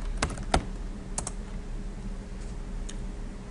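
Typing on a computer keyboard: a few quick clustered key clicks early on, then sparse single taps, close and fairly quiet against a soft background hum.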